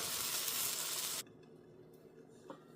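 Ragi and coconut batter sizzles loudly in a hot appam pan as it is swirled. A steady, hissing fry fills the first second or so, then cuts off abruptly, leaving quiet kitchen background.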